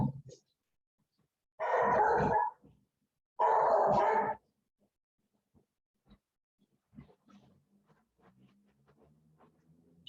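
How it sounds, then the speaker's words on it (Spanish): A female dog barking twice, two loud sustained rough barks or roars close by, followed by quiet with faint scattered noises. "Ya, que la perra no deja oír."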